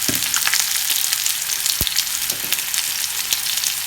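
Fish frying in coconut oil with curry leaves, a dense, close, steady sizzle with small crackles and pops and one soft knock, without speech.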